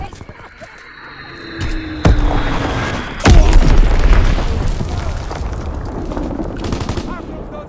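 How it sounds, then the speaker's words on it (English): Bomb blasts and gunfire in the Call of Duty: WWII game erupt with heavy booming impacts and rattling shots, loud and close, building into a sustained roar of battle with game voices in the mix. "Enemy bomb incoming."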